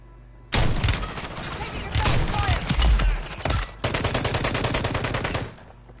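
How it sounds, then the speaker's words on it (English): Gunfire in a video game, several bursts of rapid shots in close succession, loud and near, with a short gap between two long volleys; no one speaks. "I don't understand how I'm missing these shots with my sniper"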